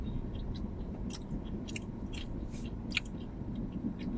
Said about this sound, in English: I'm eating and chewing.